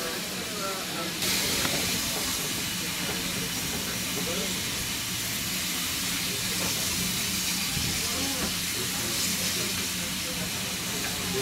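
A steam train on the North Norfolk Railway gives off a steady, loud hiss of steam with rumbling machinery underneath, continuous throughout, with faint voices in the background.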